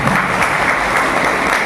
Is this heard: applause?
yes